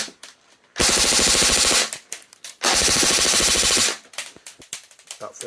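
A KWA Scarlet airsoft gun fires full auto in two loud, close bursts of rapid, evenly spaced shots, each lasting about a second, separated by quieter handling noise.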